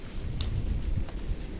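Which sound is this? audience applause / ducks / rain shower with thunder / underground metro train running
rain shower with thunder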